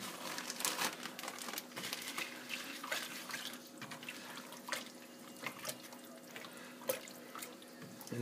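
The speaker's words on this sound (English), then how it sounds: "I'll wash my hands right quick." Hands are washed at a kitchen sink under a running tap, a faint soft stream of water with splashes and crinkly rubbing, quiet and steady with no speech.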